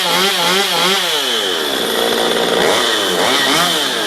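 A Stihl MS 192 TC chainsaw runs after a tune-up and carburetor adjustment, its engine loud and close, rising and falling in pitch as it revs and settles, with no talking.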